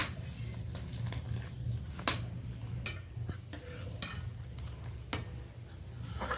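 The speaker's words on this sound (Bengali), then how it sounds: "অনবরত এটা নাড়তে হবে, সরটা যাতে না পড়ে যায় দুধে" Milk being stirred continuously in a pot as it thickens for homemade yogurt, with a steady scraping and clinking of a utensil against the metal and occasional sharper taps over a low hum, no voices.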